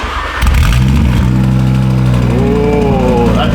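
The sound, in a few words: Audi RS3 cold start with APR exhaust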